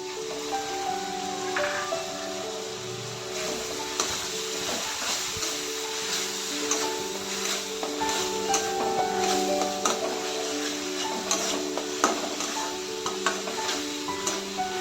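Onion paste and tomato paste are stir-fried together in hot oil with a ladle, giving a soft continuous sizzle with scraping and clinking stirring strokes, close and moderately quiet.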